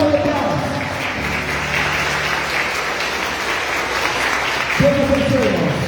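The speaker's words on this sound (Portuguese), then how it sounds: "A salva de palmas." A church congregation claps steadily through a closing round of applause at a service, with a voice or sustained tone heard at the start and again near the end.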